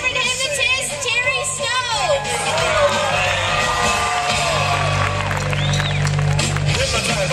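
A crowd at the Stampede cheers and whoops for a hypnotist, a loud, continuous roar of many voices with high shouts and children's yells, while an announcer talks over it.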